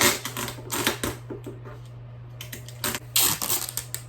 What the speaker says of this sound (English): I'm gonna do extra tape.